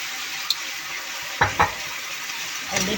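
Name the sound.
stirring and frying vegetables with spices for lentil soup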